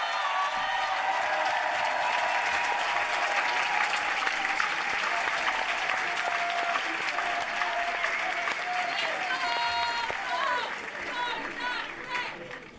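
Audience at a political rally or speech applauding, a thick, sustained wash of clapping from a large crowd that tapers off near the end.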